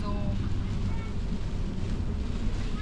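A boat engine rumbles low and steady during a sudden storm, while the vessel's anchor breaks loose. Strong wind buffets the microphone and roars over the constant drone.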